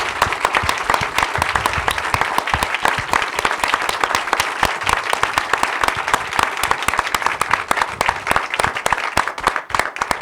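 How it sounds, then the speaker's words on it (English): A room full of people at a veteran mental health event claps steadily in a dense, sustained round of applause for the veterans, loud and continuous throughout without any break. "I want to really give a great round of applause to everybody in here."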